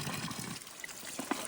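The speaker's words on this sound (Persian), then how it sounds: "اینم چشمه." Water trickling from a small spring in a forest, a faint, steady babble with light splashy droplets and a few brighter plinks.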